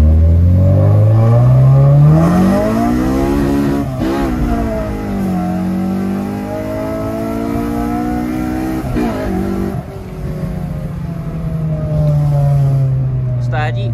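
Car engine droning and revving steadily during an axle test drive, pitch rising and falling as it accelerates and shifts, loud and close throughout, with voices talking over it.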